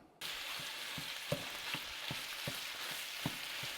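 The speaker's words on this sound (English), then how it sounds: "So let's get our ground beef going." Ground beef for chili sizzles steadily in a pan, a constant loud hiss broken by regular soft scrapes and knocks of stirring, with no talking.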